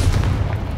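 Confringo fire spell blast in the video game Hogwarts Legacy, a short, heavy booming burst with a deep rumble that decays quickly.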